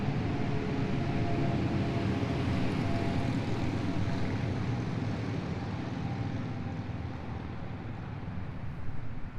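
Motorcycles from a rally pass outdoors near a hay bale garden, making a continuous broad engine drone that fills the whole stretch and fades only slightly toward the end, with no talking over it.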